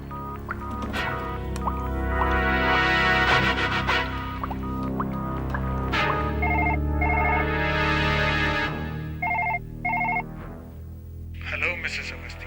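A telephone rings in a horror drama scene, with repeated pulsed electronic tones in short bursts over a dark, droning musical bed.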